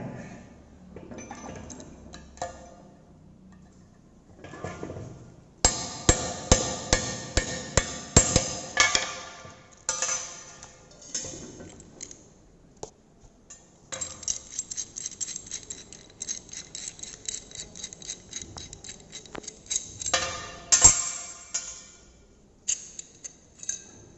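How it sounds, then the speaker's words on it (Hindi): Metal parts of a Stillson pipe wrench clink, tick and scrape in bursts as it is taken apart piece by piece, with quiet pauses between the handling sounds. "ये जो स्टील्सन पाइप रिंच है, तो इसके सारे पार्ट्स को खोल के दिखाएंगे।"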